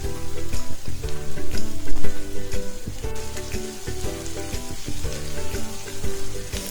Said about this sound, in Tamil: குடமிளகாய் எடுத்து வச்சுருக்கேங்க, கட் பண்ணி வச்சுருக்கேன் அதே சைஸில். அதுவும் இதோட சேர்த்து நல்லா வணக்கிக்கலாங்க.